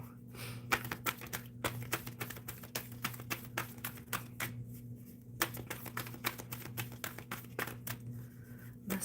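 Tarot cards being shuffled by hand, a steady run of quick riffling taps and slaps close up, repeating in bursts over a low constant hum, with no talking.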